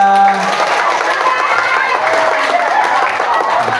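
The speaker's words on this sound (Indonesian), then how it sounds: "Oke, tepuk tangan buat kita." Students at a school outreach session in a junior high classroom applaud together, a loud, dense burst of clapping mixed with crowd noise and voices, steady throughout.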